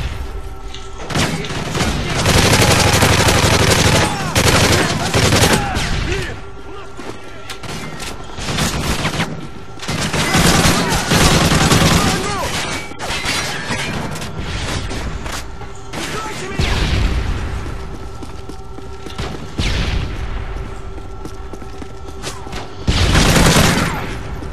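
Gunfire aimed at a turret in an offline survival video game, loud repeated bursts of rapid shooting separated by short pauses, with thumping impacts between volleys.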